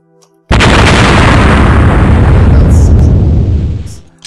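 Buildings blowing up in the strategy game OpenApoc: after a short quiet moment, a sudden loud explosion bursts in and roars on as a thick, sustained rumble for about three seconds before fading.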